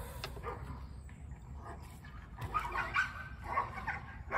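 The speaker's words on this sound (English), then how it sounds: "Ooh, those dogs are at it." Several dogs bark and yip at a moderate distance, in scattered bursts over a low background rumble.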